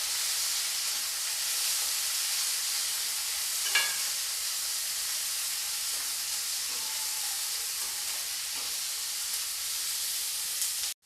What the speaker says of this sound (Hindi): अनियन डालने के बाद मैं इसे 1 से 2 मिनट तक फ्राई कर लूँगी अनियन को